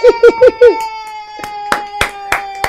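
A few sharp claps with speech-like voices at a comedy interview in Nigeria, close and moderately loud, repeating at an irregular pace over a steady background tone.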